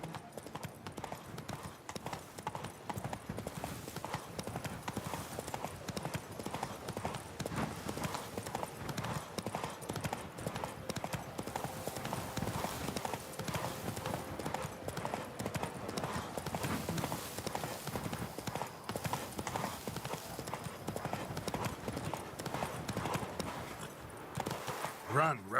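Hooves of the horse Roach clip-clop in a steady gallop across a Witcher 3 game world, continuous and close, with occasional talk over the rhythm.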